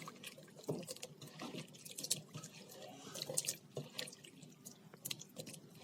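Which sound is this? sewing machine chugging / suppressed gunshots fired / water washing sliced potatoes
water washing sliced potatoes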